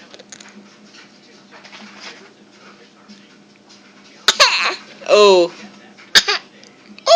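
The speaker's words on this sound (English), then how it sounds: "Show the camera how you fake coughing." A person gives a few short, forced fake coughs that rise suddenly out of a quiet room after a long lull, close and fairly loud, mixed with brief giggling and a spoken exclamation.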